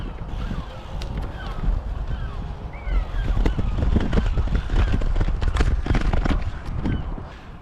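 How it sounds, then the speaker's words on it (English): An Elops Speed 500 singlespeed bicycle rolls over light gravel, a continuous close crunching rumble with irregular ticks and wind buffeting the microphone. "It can handle light gravel, as I'm currently doing what Nick Vieri would probably term London g"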